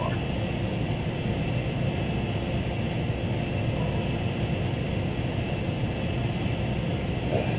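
AV-8B Harrier II+ jet engine in the Flight Simulator X video game: a continuous, steady roar with a constant whine, loud and unbroken throughout.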